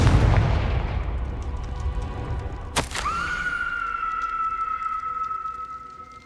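A Confringo fire spell in Hogwarts Legacy bursts with a sharp explosive crack midway, then a bright ringing, whooshing tone hangs on and slowly fades over a rumbling dungeon backdrop.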